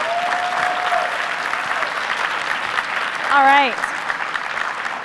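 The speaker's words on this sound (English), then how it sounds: "Big round of applause for our panelists, please." Dense audience applause for conference panelists at IZEAFest 2015 fills the room steadily and close, with a short spoken remark near the end.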